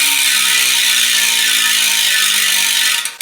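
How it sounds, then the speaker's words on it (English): A DT Swiss ratchet-style freehub on an ICAN FL MAX carbon road wheel buzzes in a fast, steady, loud clicking whir for about three seconds before stopping abruptly. "they have a DT Swiss ratchet style driver"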